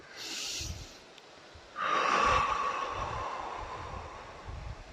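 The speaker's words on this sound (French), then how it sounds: "J'inspire." A slow, deep inhalation during a guided relaxation exercise comes through as a close, airy breath drawn in and held steady for several seconds, preceded by a brief softer breath.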